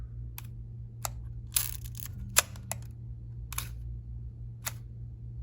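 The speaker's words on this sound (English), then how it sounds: "let's see if we can see the flash fire" Clicks and mechanical snaps from a Yashica Lynx 14E 35mm rangefinder camera being handled and its shutter fired, several sharp separate clicks spaced over a quiet hum, close and crisp.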